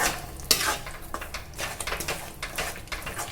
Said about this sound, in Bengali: এবার সুন্দর করে কষে নেব সমস্ত মশলাকে একসঙ্গে।